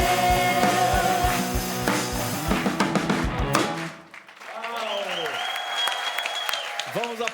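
An audience at a musical theatre performance bursts into loud applause for the band as the music ends, clapping dense then fading, followed by someone talking.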